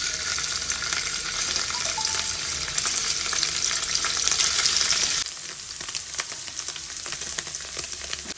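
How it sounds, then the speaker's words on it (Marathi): Cubed paneer fries hard in hot oil over a high flame, giving a loud, dense, steady sizzle that eases slightly partway through and carries on without talk. "पनीर फास्ट गॅसवर फ्राय करायचं"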